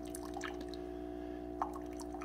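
An Aldi Ambiano single-serve K-Cup coffee maker, model CM-202, brews with soft irregular drips and splashes of coffee over a steady machine hum, close and fairly quiet, with no talking.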